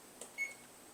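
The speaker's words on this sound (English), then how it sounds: "I'm gonna set the timer right now." A kitchen timer set while pasta cooks, one faint short beep with a soft click before it, alone in a quiet room.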